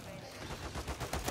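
Rapid gunfire in a shooter video game, one brief, faint burst of quick repeated shots under game noise.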